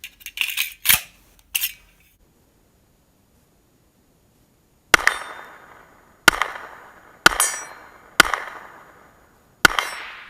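Seven sharp, loud reports from a Kimber 1911 TLE II pistol chambered in 10 mm, a quick pair and a single shot early on, then after a pause five evenly spaced shots, each trailing off in a short ringing decay.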